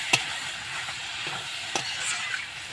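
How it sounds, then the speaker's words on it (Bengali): Jackfruit being stir-fried with prawns in oil, a steady gentle sizzle with occasional scrapes and clicks of a spatula in the pan, no talking. "এই মুহূর্তে আমি এঁচড়গুলো দিয়ে দিচ্ছি। এঁচড়টা দিয়েও আমি ভালো করে কষিয়ে নেব।"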